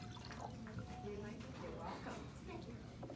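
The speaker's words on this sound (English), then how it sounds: "Okay, so if I pour that into there," Water poured from one drinking glass into another during a conservation demonstration, a soft trickle running under continuous talk.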